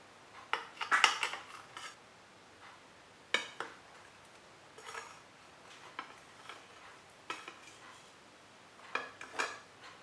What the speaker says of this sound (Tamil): இப்போ கேக் கட் பண்ணலாமா?